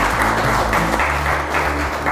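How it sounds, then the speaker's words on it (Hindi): Applause at a class-level quiz competition after a correct answer: a short, steady burst of group clapping, fairly loud, over a low background hum with faint voices. "जोरदार तालियां"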